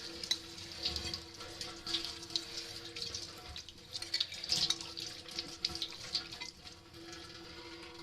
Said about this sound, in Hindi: अब ये मैं अंडे की प्लेट धो दूँ